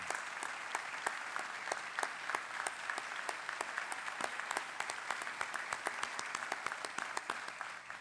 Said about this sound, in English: please stand and be applauded for your efforts tonight.